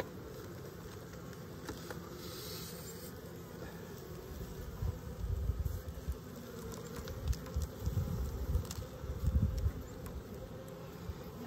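Honeybees hum on a sugar frame lifted from a hive in early March, a steady close buzz with a few louder swells toward the end.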